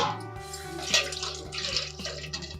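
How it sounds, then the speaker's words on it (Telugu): Water splashes and trickles steadily into a cooking pot while a Godavari-style Pulasa fish curry is being made, a close, continuous pour with a few soft clinks over about two and a half seconds. "వాటర్ వేసుకుంటున్నామండి."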